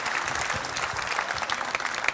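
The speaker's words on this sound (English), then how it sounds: "A round of applause for Eliot, please." Audience applause for Eliot Higgins on a conference main stage, a loud, steady wash of clapping from a crowd throughout.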